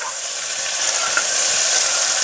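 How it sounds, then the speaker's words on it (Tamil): Mixed vegetables for veg kurma sautéing in a hot pan, a bright continuous sizzle that swells slightly and stays steady, close and alone without any voices. "இப்போ இது நல்லா வதங்கட்டும்"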